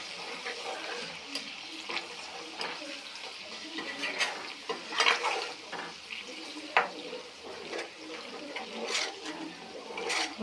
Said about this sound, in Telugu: బాగా మరగాలి. చూడండి, నెయ్యి రెడీ అవుతుంది.